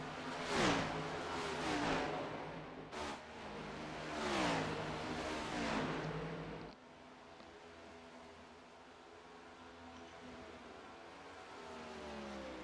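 NASCAR Next Gen race cars in the iRacing game roar past with rising and falling engine whines for several seconds, then the sound drops to a quieter steady hum of distant car noise.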